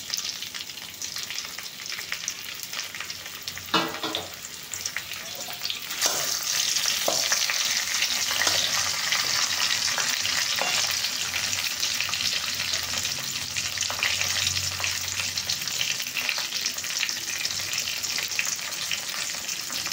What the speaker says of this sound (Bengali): এরপর আমরা টমেটো কুচিগুলো দিয়ে দিচ্ছি।